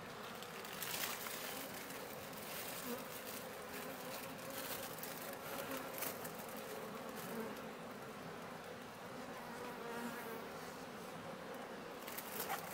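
Honeybees swarm around a wild hive with drones present, giving a steady, dense buzzing drone that holds evenly throughout at moderate loudness with no voices.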